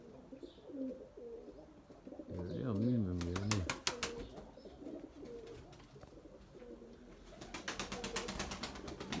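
White tumbler pigeons coo in a loose loft setting, a loud warbling coo burst standing out mid-clip among softer calls, with rapid clattering flaps or rattles near the middle and end while someone talks over them.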